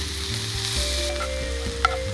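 Ground steak frying in a pan at a campsite, a steady close sizzle with a low hum running underneath and one brief clink near the end.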